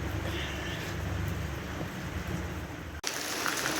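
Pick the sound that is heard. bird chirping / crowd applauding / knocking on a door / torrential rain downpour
torrential rain downpour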